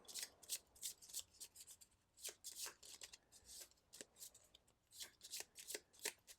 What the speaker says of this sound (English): We do have a few decks that we need to shuffle though